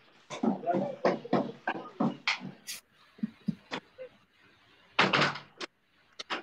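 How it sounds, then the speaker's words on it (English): A door is shut and locked indoors amid commotion, with a rapid series of knocks, thuds and latch clatter, then a pause and a couple more sharp bangs. Faint voices and movement are mixed in. "Lock the door."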